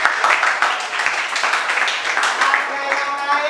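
Students applaud in a school classroom, a bright burst of many hands clapping steadily for a few seconds, with voices mixed in.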